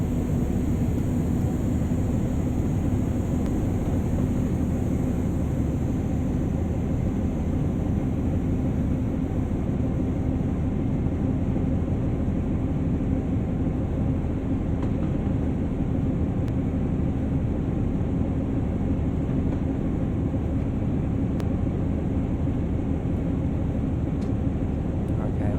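A West Somerset Railway train in Train Sim World runs at full power, giving a steady, unbroken engine drone and rolling rumble that holds level throughout.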